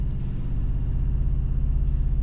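A digital 32-foot organ bass tone plays through a speaker in a church, a deep, throbbing low rumble that pulses steadily like an idling motorcycle, sustained alone and moderately quiet.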